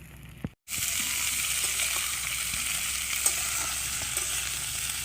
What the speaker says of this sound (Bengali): আমি বেছে রাখা পুঁই মিটুলিগুলো পরিষ্কার করে ধুয়ে নিয়েছিলাম আমি এবার দিয়ে দেবো